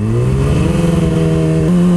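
Yamaha R6 motorcycle engine revving as it downshifts into first gear, a loud close tone rising in pitch with a brief shift step near the end.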